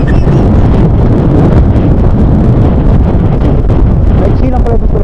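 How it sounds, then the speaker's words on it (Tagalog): Strong wind roars and buffets the microphone nonstop, loud and gusty throughout, with a voice faintly audible beneath the rumble. "Lakas ang hangin, grabe, may barko."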